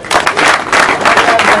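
A crowd at a UDPS political rally for Felix Tshisekedi breaks into loud, close applause and cheering in short surging waves, with voices mixed into the clapping.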